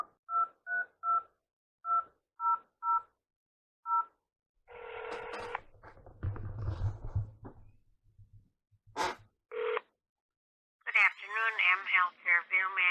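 Touch-tone dialing for a call to Fairview Bethesda Hospital in St. Paul, Minnesota: a quick series of about ten clear DTMF beeps, then line noise and a ring, followed by a voice answering.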